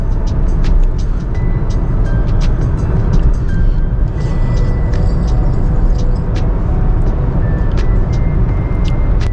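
A Honda City i-VTEC sedan cruising steadily at about 110 km/h on an open highway, a loud continuous interior drone of road and wind noise with faint ticking clicks over it.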